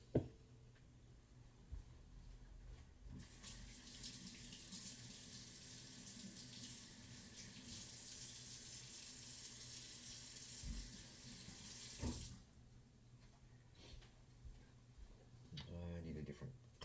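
Tap water runs steadily into a sink for several seconds while a straight razor is rinsed under it, then stops abruptly before running again briefly, with faint handling sounds around it.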